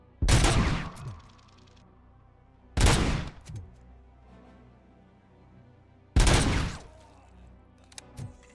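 Gunfire in the video game RoboCop: Rogue City comes as three loud, close bursts spaced a few seconds apart, each fading into a short rumble, followed by a couple of faint clicks.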